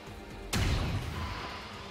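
A single heavy gunshot in the strategy game XCOM 2: War of the Chosen, a sharp loud blast followed by a lingering rumbling decay, with no talk.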